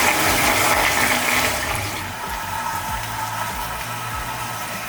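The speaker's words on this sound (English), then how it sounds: "Press the flush button on the remote to check the flushing power and ensure everything is working correctly." A HOROW X70 smart toilet flushes with a strong, steady rush of water that swirls and drains over several seconds, loud and close at first before easing slightly toward the end.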